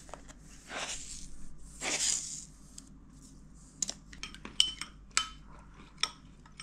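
A spoon scrapes and stirs a stir-fry sauce in a bowl, first with soft swishing strokes, then with a run of sharp clinks and taps against the sides.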